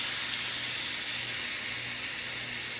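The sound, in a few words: ham searing on a hot cast iron pan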